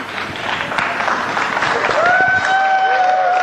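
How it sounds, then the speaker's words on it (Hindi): An audience applauds to welcome newly arrived guests, a loud, sustained wash of clapping and crowd noise with whistle-like tones rising over it. "हम आपका जोरदार तालियों से स्वागत करना चाहते हैं।"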